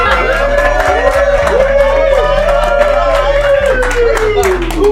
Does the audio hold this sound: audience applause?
yes